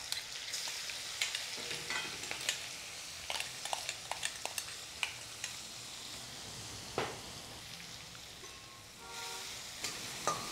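Ground masala tipped into pumpkin curry frying in oil with curry leaves, giving a steady close sizzle broken by stirring scrapes and clicks, with no voices.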